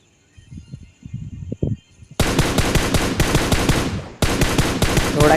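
Automatic gunfire in a shooter video game, a few soft thuds followed by sustained, loud rapid-fire bursts, then a brief gap and another burst.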